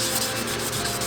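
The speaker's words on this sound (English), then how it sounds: "Got my wet sanding paper and sitting here sanding everything down." Wet sandpaper rubs back and forth over a painted frame in a steady, close, gritty scraping rhythm, with no talking.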